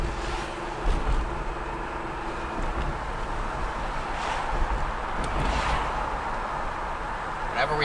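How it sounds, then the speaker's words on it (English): Steady broadband wind rush and road roar inside a car cruising at speed, captured by a dashcam, continuous and fairly loud with no voices. "let's see if we can speed up a little and get some wind noise test"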